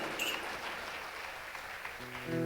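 An audience fills a packed music auditorium with steady applause for a couple of seconds, a wash of clapping with a faint musical tone near the end.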